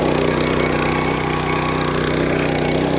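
A Raja Bhai Champ mini tractor with a rotavator runs steadily close by, its engine putting out an even, continuous mechanical drone with no talk over it.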